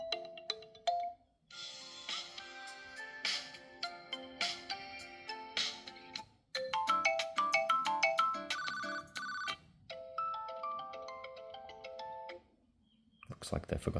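Unihertz Titan 2 phone ringtones playing one after another, a series of bright synthetic melodies and chimes, each cut off abruptly with short silent gaps, ending in a brief noisy burst.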